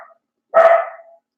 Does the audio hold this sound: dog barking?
yes